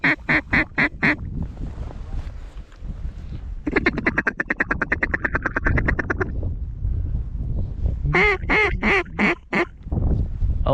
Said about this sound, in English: Oh, more ducks, more ducks.